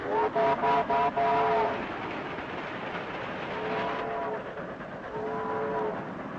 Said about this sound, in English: Your friend Hopkins would like to play with that whistle, Frank.